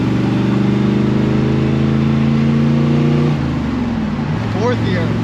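A 1977 Chevrolet Corvette engine drones loud and close as the car accelerates on the road, its pitch holding steady, then dropping and climbing again with a gear change.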